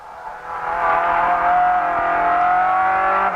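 A race car is driven hard through corners, its engine screaming at high revs in a loud, sustained whine that rises slightly in pitch, heard close up as it powers out of a bend.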